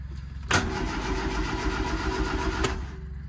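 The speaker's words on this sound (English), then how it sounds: "Just see if it'll crank." Lotus Elan engine cranking over on the starter with its crank sensor unplugged so it cannot fire, a steady, close churning roll lasting a couple of seconds before cutting off, with no talking.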